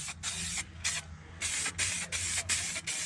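Underbody coating is sprayed onto a VL Commodore in short hissing bursts, about seven spurts separated by brief pauses, close and clear with no talk.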